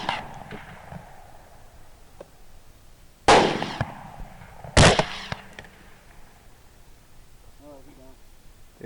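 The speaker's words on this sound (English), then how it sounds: "My last shot's going to miss, but Jim's last shot's going to be the one that puts her down" Two loud rifle gunshots about a second and a half apart during a nighttime thermal hog hunt, each with a short echoing tail, and quiet talk around them.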